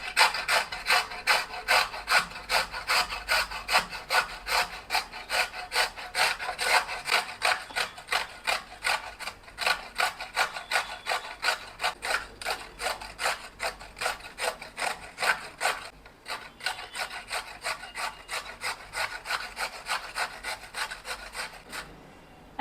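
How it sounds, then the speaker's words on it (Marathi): Peeled beetroot grated by hand on a grater, a steady fast rhythm of rasping scrapes that carries on for a long stretch with no voices. "बीटरूटला सोलल्यानंतर ते किसून घ्यायचे."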